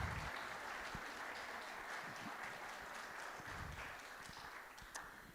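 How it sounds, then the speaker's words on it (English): A crowd at a guide dog graduation ceremony gives a round of applause, heard as faint, steady clapping that continues evenly throughout. "So let's go ahead and give Nixie and Dolphin a round of applause"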